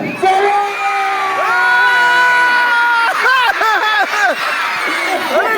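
A crowd of schoolchildren at a school in Kunigal cheers and shouts loudly, with whoops and high excited voices layered into a continuous noisy burst. Some claps sound under the shouting.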